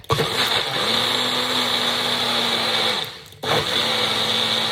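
A blender making mayonnaise whirs loudly with a steady motor hum, stops briefly, then starts again for another short burst, close by with no voices.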